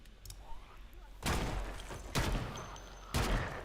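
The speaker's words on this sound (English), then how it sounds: "this is an example of me using the gun here with the upgrades" A Desert Eagle pistol fitted with a red dot and laser firing in Project Zomboid, three heavy, evenly spaced shots about a second apart, loud and near, over a faint game background.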